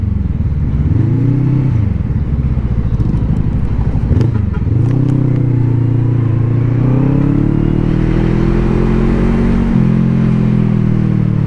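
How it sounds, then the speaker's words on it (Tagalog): Vogue CU525 motorcycle being ridden through city streets, its engine revving up and easing off in repeated gear-change cycles, close and loud, with rattling clatter at times. "Syempre gamit natin CU525 ng Vogue. Napakagandang motor."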